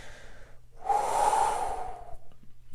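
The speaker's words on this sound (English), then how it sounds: "You're just counting, you're just breathing." One slow, deep breath drawn out over about a second, close and clear, with quiet stillness before and after.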